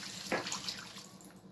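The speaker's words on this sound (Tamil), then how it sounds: "இப்போ வந்து நம்ம 1 கிளாஸ் தண்ணி ஊற்றிக்கலாம்." Water from a glass splashing into a pan of chicken and spiced masala for a home-style chicken gravy, a short close pour with a faint sizzle, heard alone.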